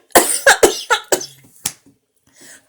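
A person coughs close by, a rapid burst of four or five harsh coughs. Two or three softer coughs follow after short pauses, and quiet stretches fall between them.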